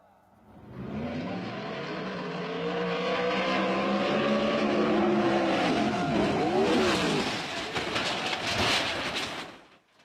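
Race cars roar and rev in a one-on-one shootout before crashing, engine noise swelling and sweeping loudly for several seconds then cutting off, with the clatter of the wreck near the end.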